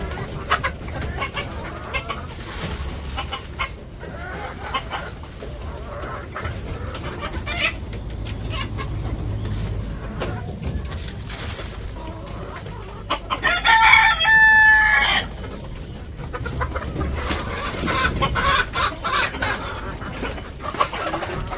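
Chickens cluck and a rooster crows on a poultry farm, the flock steady and fairly near throughout, with a louder burst of crowing and squawking standing out partway through.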